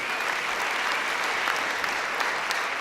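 A church congregation applauding during a sermon, dense steady clapping from many hands, sustained and even for the whole stretch with no voices over it.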